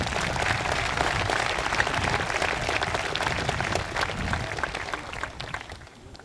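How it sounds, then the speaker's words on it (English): Sustained applause from a large audience honoring the senior class at a college convocation. Dense, loud clapping carries on evenly before thinning and fading toward the end. "I think that deserves a round of applause"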